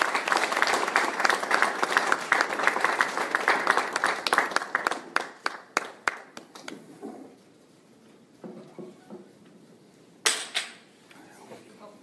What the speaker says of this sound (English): I would like now to welcome her and applaud her to the podium